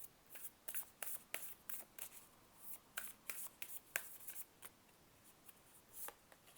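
Moonology oracle cards being shuffled, a quiet run of soft riffling flicks and snaps, irregular and close, with no voices.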